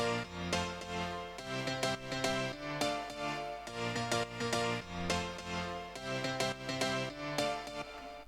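Several layered piano sounds play a simple tropical house chord progression together, rhythmic chopped chord stabs repeating in a steady summery groove, full and dense with no voices.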